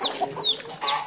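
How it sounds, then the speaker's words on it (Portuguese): Free-range backyard chickens cluck and squawk close by in rural Brazil, a string of short, bright calls overlapping one another. "Galinha solta no quintal mesmo."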